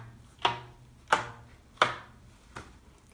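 Rubber bands stretched over a box are plucked four times, each a sharp twang that quickly fades, spaced evenly about two-thirds of a second apart with quiet gaps between.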